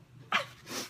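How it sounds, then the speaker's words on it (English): A single short human sneeze during a live craft broadcast on stencilling a pattern with wood-burning tools, a sharp burst followed by a softer exhale, fairly faint over a quiet room. "You just saw me sneeze."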